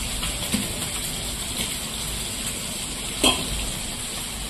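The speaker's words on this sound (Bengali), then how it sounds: "এবার আমি পরিমাণ মতো দিয়ে দেবো তেল" Cooking oil poured into a wok for a fish dish gives a steady, close sizzling hiss that runs throughout, with one brief clink partway through.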